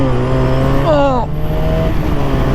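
A Honda V65 Magna motorcycle engine revs up hard through first gear, its pitch climbing steeply before dropping at the shift into second, then pulling on at a lower tone; a loud, close engine with a shout over it.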